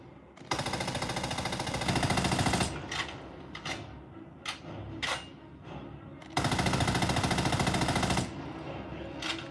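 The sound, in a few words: gunfire in a PS5 video game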